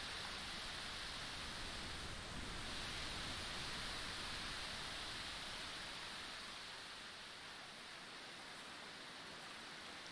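Continuous rushing water flows in a cold Minecraft cave, a dense hiss that holds steady and eases slightly softer toward the end, with no speech over it.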